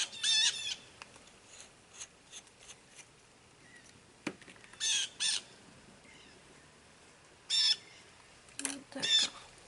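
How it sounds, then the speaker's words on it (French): Birds outside a window squawk in short, scattered bursts, heard faintly from indoors against a quiet room, with a few separate harsh calls spaced over several seconds. "il y a des oiseaux dehors. Que vous pouvez entendre d'ailleurs."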